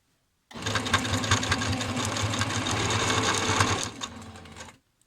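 A sewing machine stitching fabric runs in one steady burst of rapid mechanical whirring and ticking, close and fairly loud, starting abruptly and stopping after about four seconds.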